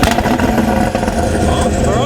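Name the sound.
BMW 540i anti-lag system firing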